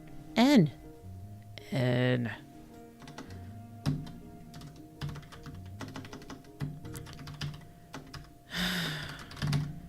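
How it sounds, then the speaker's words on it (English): Computer keyboard typing in irregular bursts of clicks, close and moderately loud, with a person talking between the keystrokes. "Something is seriously up with this keyboard."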